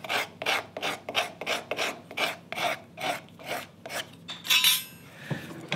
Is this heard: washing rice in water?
no